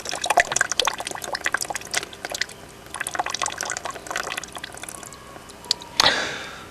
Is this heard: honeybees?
no